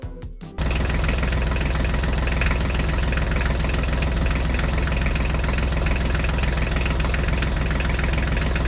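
A small tractor engine starts after a brief moment of quiet and keeps running loudly and steadily, with a rough, knocking idle rhythm.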